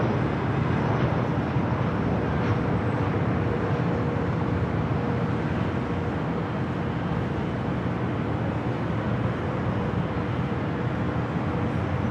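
A Delta Airlines Airbus A321 comes in to land at LAX, a broad, steady jet roar heard from a distance. The rumble stays fairly even throughout, with no voices.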